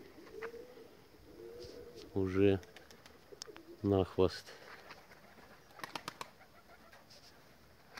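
Pigeons at a loft, cocks chasing hens and hopping about, give two loud bursts of wing flapping with soft cooing in between, while someone talks quietly nearby.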